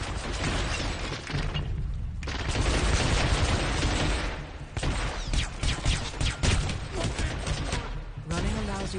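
Gunfire in Hitman: Absolution during the Chicago hotel mission, dense and loud with repeated shots and crashing impacts under game voice prompts, continuing across the whole stretch with short breaks.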